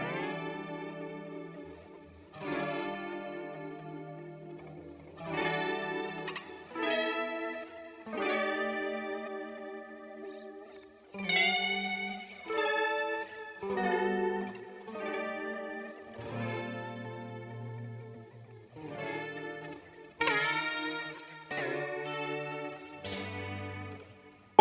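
Neo soul electric guitar chords through a Line 6 Helix, played with pick and fingers, ring out as loud phrases with a chorus-like shimmer and echo tails, alone with no talking.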